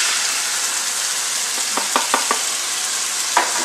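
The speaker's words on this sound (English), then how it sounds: "So we're going to go ahead and add the sauce in the middle." Sauce hits a hot pan of stir-fried vegetables, giving a steady broadband sizzle throughout with a few brief clicks and scrapes of stirring, fairly loud and without voices.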